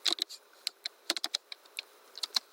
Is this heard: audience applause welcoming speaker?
no